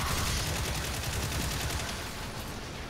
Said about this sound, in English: Just shoot the wall.